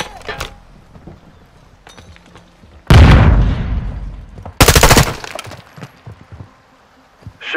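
Sharp gunshots with cracking, shattering impacts during a sniping mission in Call of Duty Modern Warfare 2, two loud bursts separated by quieter stretches of faint ambient game noise and sporadic smaller pops.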